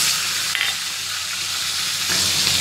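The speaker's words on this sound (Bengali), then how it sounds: "হলুদ, নুন দিচ্ছি, নাড়ছি।" Ginger and green chili paste with a little water sizzles and hisses steadily in a hot pan while being stirred, a close, loud frying sound with no talking.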